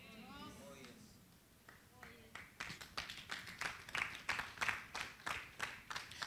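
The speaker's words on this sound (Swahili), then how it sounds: "Sijakwambia upige makofi," Audience at a Swahili church sermon on prayer breaks into clapping, quiet at first under a speaking voice and then building into loud, rhythmic, evenly spaced claps near the end.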